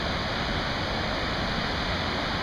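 Swallow Falls, the highest waterfall in Maryland, at Swallow Falls State Park, pours in a steady, loud, close rush of broadband water noise that holds unbroken throughout, with no voices.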